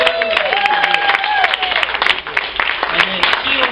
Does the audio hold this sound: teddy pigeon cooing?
no